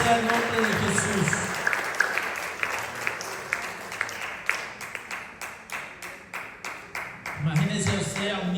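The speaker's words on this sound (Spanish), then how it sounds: "¿Por qué no le da mejor ese aplauso al Señor en esta tarde?" A church congregation claps together in praise, loud and sustained, settling into a steady rhythmic beat before a voice returns at the end.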